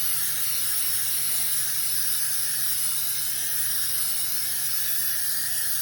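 Ford brake cleaner sprays into a fuel filter housing on a Ford 6.7 diesel, a continuous close aerosol hiss held steadily throughout with a faint low hum beneath and no voices.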